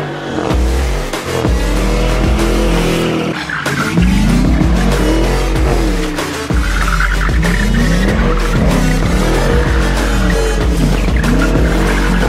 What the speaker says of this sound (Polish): Patrzcie, jak upierdzieli opony.